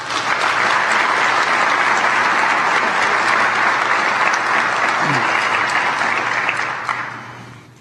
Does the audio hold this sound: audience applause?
yes